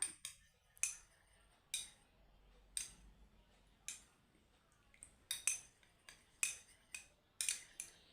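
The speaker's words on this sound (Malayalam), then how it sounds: "ഇനി നന്നായിട്ടൊന്ന് മിക്സ് ചെയ്യാം" A spoon clinks and scrapes against a bowl while mixing a beetroot and curd paste for a face pack: a series of sharp, bright taps at an irregular pace over near silence, close by and alone.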